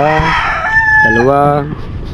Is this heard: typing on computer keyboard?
no